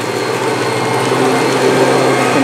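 A Kirby G3 upright vacuum cleaner with a 7-amp motor runs on carpet, giving a loud, steady whine and rushing airflow with a constant motor drone and no voices.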